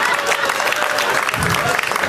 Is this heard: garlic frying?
no